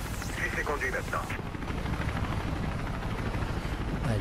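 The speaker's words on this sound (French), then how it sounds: "L'hélico s'éloigne" A helicopter in the video game Mirror's Edge drones and whirs steadily as it flies away, a constant rotor roar that stays fairly loud throughout.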